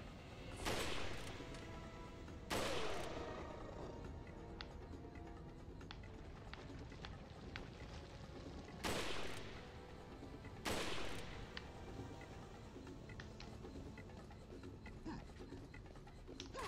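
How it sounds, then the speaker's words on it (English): Rifle shots in Resident Evil 4, several sharp, loud reports spaced a second or more apart, some in quick pairs, over a low continuous game backdrop. "I just switched to the rifle because I got enough rifle ammo."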